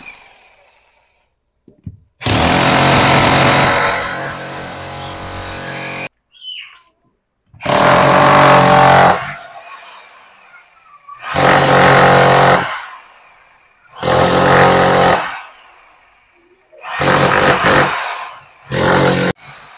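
An Ingco demolition hammer runs under test in five loud, harsh bursts of a few seconds each, separated by short silences.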